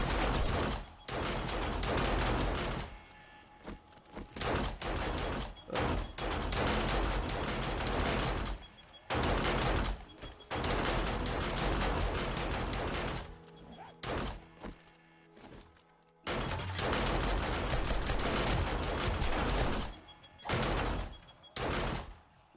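Repeated shotgun blasts from a 7 Days to Die horde night come in dense bursts separated by short pauses, loud and close, with thuds and impacts mixed in and no talking.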